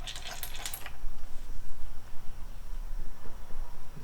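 A loose metal part rattles inside a new Baumr AG PRO SX82 chainsaw, giving a bright jangling clatter at the start that fades into soft shaking and handling noise.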